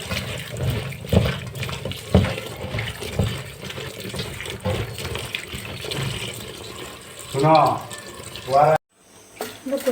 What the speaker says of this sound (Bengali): বন্ধুরা কচু ডাঁটাগুলো ভালো করে জল দিয়ে ধুয়ে নিচ্ছি